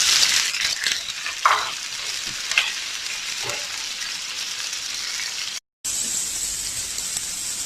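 Long-sliced onion frying with garlic in a pan for a mushroom pepper masala, a close, continuous hissing sizzle with stirring scrapes that cuts out briefly before resuming.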